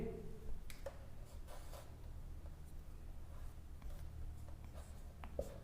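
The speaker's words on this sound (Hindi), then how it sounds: "यहां लिख देता हूं मैं," Marker or chalk taps and scratches on a board in a classroom physics lesson, a run of short, quiet strokes with no voice over them.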